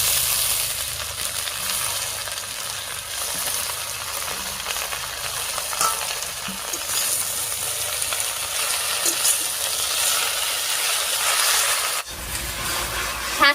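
Fresh jute greens dropped into oil with browned onion, garlic and slit green chilli, a loud continuous sizzle with stirring scrapes, ending in a sharp clatter near the end.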